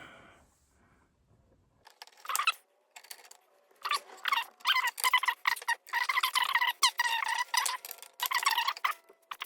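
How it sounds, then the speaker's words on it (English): Unscrewing screws on a Markbass bass amp with a manual screwdriver produces close, dry ticking and clicking in irregular bursts, with short pauses between turns in an otherwise quiet room. "I'm going to use the manual screwdriver."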